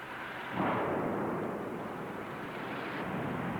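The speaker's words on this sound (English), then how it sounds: "Another resident filmed nearby as another tank exploded." A fuel depot storage tank explodes with a sudden deep boom that swells into a sustained, rumbling roar. It sounds moderately distant and carries on steadily for several seconds, with no voices.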